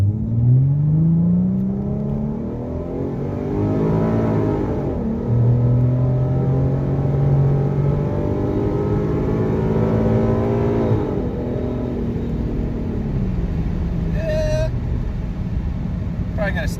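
A 2014 Ford Mustang with a 3.7 V6 and retuned automatic shift points accelerates from inside the cabin, its engine note rising and falling through several gear changes in a loud, continuous drone, with a voice speaking over it.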